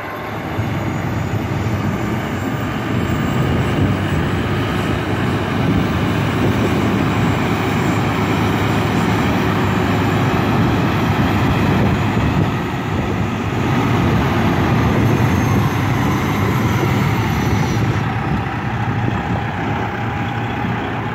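A truck engine rumbles loud and close in a steady, unbroken drone for about twenty seconds as it pulls forward during a 90-degree alley dock, with no voices.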